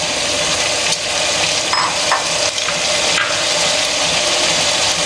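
Potatoes go into a pot of frying biryani, raising a loud, steady sizzle with occasional stirring scrapes that carries on without pause and with no voices.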